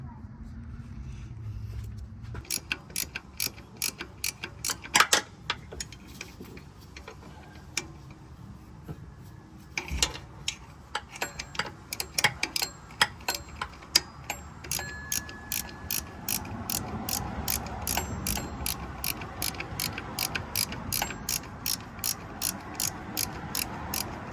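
Ratchet loosening the tensioner bolt on a 2002–2011 Toyota Camry: close, rapid metallic clicking in uneven bursts that speed into a steady ticking run, with someone talking now and then.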